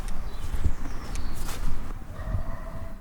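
Footsteps walking along a city street, caught on a stereo recorder, with steady outdoor traffic-like background noise and faint high tones, no talking.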